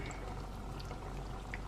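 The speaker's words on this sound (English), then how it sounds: "So I added the heavy cream in." Heavy cream pours into a pan, a steady continuous liquid stream with a faint sizzle, close and moderately loud throughout.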